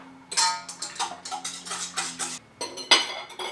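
A bowl of yeast mixture being stirred, for cheesy challah dough, with a utensil clinking and scraping against the bowl in a quick, irregular run of close, fairly loud taps.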